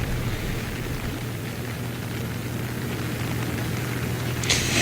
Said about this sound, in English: the rain continues to fall here next to the Pismo Beach Pier